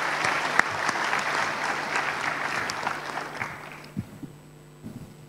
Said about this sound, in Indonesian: Tepuk tangan buat adik-adik semua.